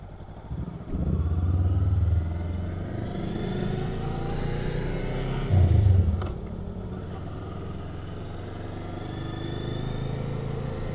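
A 2023 Honda Rebel 500 motorcycle being ridden, its engine droning steadily and close by with a brief surge of throttle partway through, while a rider talks faintly over the motor.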